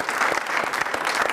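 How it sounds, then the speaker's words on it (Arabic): Audience applause on a comedy show, a steady dense patter of many hands clapping together, moderately loud and continuous with no voices over it. "يلا تصفيق له تصفيق"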